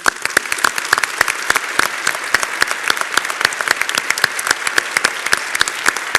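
An audience at a congress breaks into sustained applause, dense overlapping claps, loud and close, filling the whole stretch with no speech over it.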